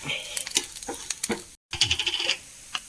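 Grated coconut roasting in a pan for onion sambar, stirred with a spatula: soft sizzling under a run of scraping strokes, with a brief pause midway before the stirring and frying resume close by.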